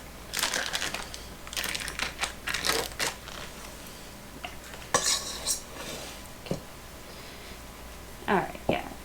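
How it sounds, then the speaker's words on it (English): A utensil scrapes soft cream cheese from a container for spinach artichoke dip, giving a series of short scraping and tapping strokes close by, fairly faint, with quiet gaps between. "And then I just kind of hold it flat and scrape off what's left."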